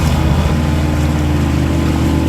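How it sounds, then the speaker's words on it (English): A 1960 Johnson 5.5 HP outboard motor runs steadily on the water, a loud, close, continuous droning hum with a rough low rumble and no pauses. "Engine's still running."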